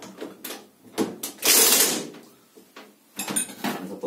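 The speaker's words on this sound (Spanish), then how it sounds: "vamos a apretarla otra vez con la llave de impacto" Impact wrench tightening the pulley on a Platina alternator, loud bursts of mechanical rattling: several short hits, then a sustained harsh burst in the middle, then a final rapid stuttering run, close up with no talking.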